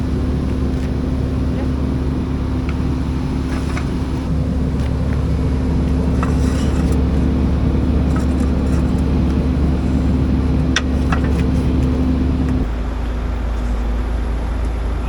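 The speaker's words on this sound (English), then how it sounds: "Drive it forward on the starter." A scrap car creeps forward on its starter motor, giving a loud, steady whirring drone with a constant hum that carries on for about twelve seconds before dropping in pitch and weight near the end.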